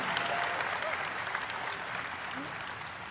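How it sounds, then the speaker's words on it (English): Applause from a large crowd at a BlizzCon Overwatch opening ceremony, a steady wash of many hands clapping heard at a distance, with some voices underneath. "Applause."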